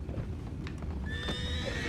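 Horses in a video game whinny and hooves clip-clop against a low, steady background rumble, with a brief high-pitched tone near the end.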